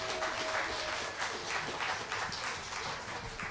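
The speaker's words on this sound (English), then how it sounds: "One more round of applause for Dravo today." Audience applause at a masterclass with author Ben Clanton, a faint, steady wash of clapping heard from a distance and lasting the whole stretch.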